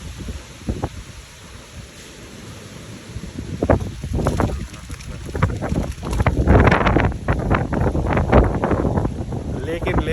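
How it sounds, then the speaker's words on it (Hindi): Wind gusting across a microphone on a morning walk outdoors in Rishikesh, with rumbling, uneven buffeting that grows stronger in the second half while someone talks. "हवा चल रही है"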